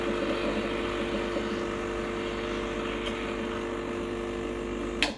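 A Rancilio Silvia espresso machine runs a blank shot, its pump giving a steady, loud vibrating drone with a constant hum that continues unbroken, close by and without speech.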